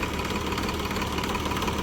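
A tractor engine idling in a farm field where manure is being spread: a steady, loud, chugging rumble with a slight knock, continuous and close by, with no talk.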